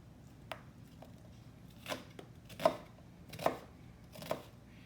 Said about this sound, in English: I have half of a small onion, and I'm just gonna go ahead and give that a quick chop.